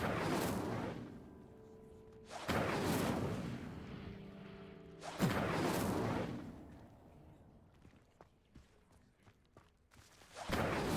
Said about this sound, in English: The flames make the pyre sink.